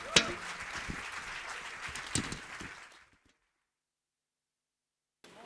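Brief applause from an audience at a foundation event for a performer and his band, a few seconds of clapping with a couple of sharp claps that cuts to silence, then a voice begins.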